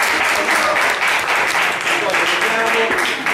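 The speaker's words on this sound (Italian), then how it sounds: "un applauso grande ad Antonio" Steady crowd applause filling the whole stretch, dense and continuous with a lively roomy feel, some voices mixed in.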